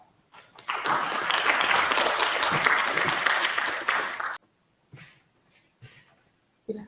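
An audience at a McMaster University talk applauds to welcome a speaker, several seconds of loud, dense clapping from a full room that stops abruptly, leaving a quiet hall with a few soft noises.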